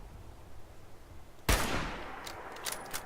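Gunfire in the video game Fallout 76 comes after a quiet stretch: one loud sharp shot with a fading tail, then several fainter pops.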